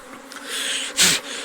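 Honeybees from a newly settled swarm buzz around the hive, a dense, close, steady hum of many wings that surges briefly louder near the end of a very short moment.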